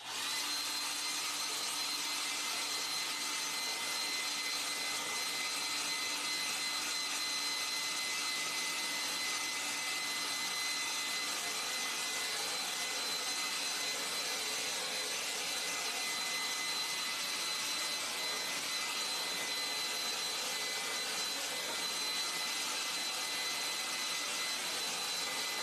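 A dryer blows steadily and loudly to dry a watercolor painting, a continuous broadband whoosh with a faint high whine running unbroken for the full length, nothing else heard.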